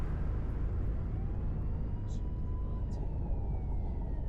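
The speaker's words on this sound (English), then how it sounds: "I literally hear sirens." In the Fernbus Simulator driving game, a faint police siren wails at a distance, rising and falling above a steady low bus engine rumble.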